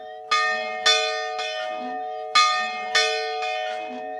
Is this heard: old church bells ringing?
yes